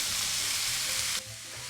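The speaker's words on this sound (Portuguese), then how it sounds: "Agora eu vou refogar minha carne moída até ela perder toda essa corzinha vermelha." Ground beef browns with garlic in a hot pan, a loud dense sizzle that drops off abruptly to a quieter hiss partway through.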